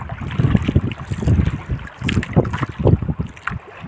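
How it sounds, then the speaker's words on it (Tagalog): Strong gusts of wind buffet the microphone in loud, uneven rumbles, with water and boat noise mixed in beneath, on a boat out fishing. "Medyo lumalakas ang hangin"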